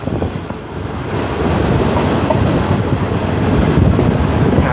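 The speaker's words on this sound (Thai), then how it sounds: "ตอนนี้ขบวนรถก็ออกจากสถานีบ้านโป่งแล้วนะครับ" A train pulling out of Ban Pong station in Thailand, a continuous broad rumble and rattle recorded close by with wind buffeting the microphone, growing slightly louder as it gets under way, no speech.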